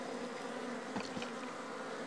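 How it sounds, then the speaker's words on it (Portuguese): Steady, close buzzing from many honeybees fills the whole stretch as a continuous hum without pause, and no one speaks. "Então eu tiro as abelhas"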